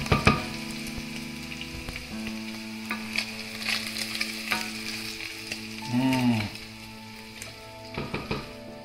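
Bora and salt fish fry in a pan, browning with a steady, close sizzle that runs throughout. Occasional stirring scrapes and light clinks of a utensil sound over it, with a brief louder burst near the end.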